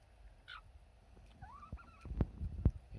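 A few soft clucks and short calls from chickens nearby in winter in Swedish Lapland, northern Sweden, with a couple of thumps toward the end.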